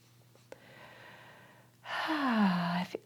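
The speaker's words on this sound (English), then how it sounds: "Couple deep breaths." A slow, deep audible inhale followed by a longer, louder exhale with a sighing tone during a restful yoga practice, close and quiet with no talking.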